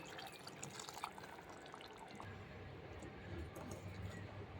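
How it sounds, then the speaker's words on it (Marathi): Hot water pours steadily into a pan of mixed vegetable masala curry, a continuous watery splashing and bubbling at moderate volume, with no voices. "यामध्ये आपल्या गरजेप्रमाणे गरम पाणी घालू।"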